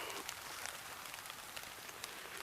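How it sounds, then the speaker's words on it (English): Light rain falling outdoors on a forest trail, a steady soft patter of drops with scattered sharper taps, faint and continuous, no talk. "It's raining on me out here a little bit right now"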